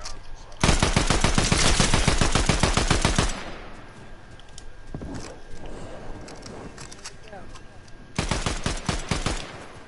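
Rapid automatic gunfire in Fortnite, two loud sustained bursts of closely spaced shots separated by quieter moments with scattered distant sounds.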